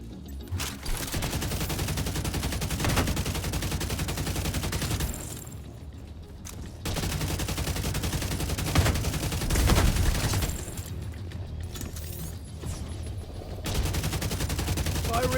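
Dense bursts of automatic gunfire from The Division 2 shooter game, loud and close, with rapid volleys broken by brief pauses and continuing across the whole stretch.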